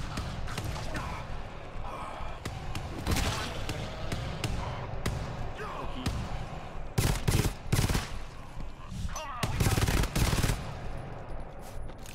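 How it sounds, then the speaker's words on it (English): Shotgun blasts from the video game GTFO, fired during a fight in underground labs: loud, sharp reports come in irregular bursts, several in quick succession near the end, over background game noise. "Shotgun time."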